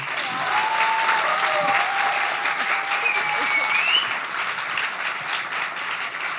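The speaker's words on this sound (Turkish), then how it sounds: "bedava bir alkışla Özge'yi bir gaza getirelim" A studio audience at a Turkish live comedy stage show breaks into loud, sustained applause, dense clapping that holds steady throughout and tapers slightly at the end.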